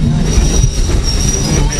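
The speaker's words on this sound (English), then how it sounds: "looks like the train's stopping" A train at the Old Threshers Reunion grinds to a halt, its wheels squealing loudly with a steady high whine over heavy low rumble, close by and without voices.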